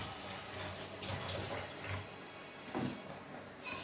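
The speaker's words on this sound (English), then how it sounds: "I'm gonna go ahead and wash my cucumber" Water running and splashing faintly as a cucumber is rinsed at a sink, with soft handling noises and intermittent swishes against a quiet background.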